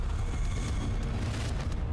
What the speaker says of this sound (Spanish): Me alejo lo más posible de tu explosión extraña.